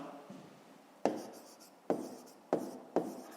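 Pen strokes on paper during a fifth-grade maths exercise, several short sharp scratches at irregular intervals, close and fairly quiet, with no talking.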